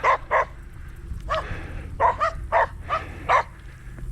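Several dogs, likely Australian shepherds, bark at a farm with goats and horses behind a fence: a series of loud, close barks in irregular bursts of two or three, with no talk.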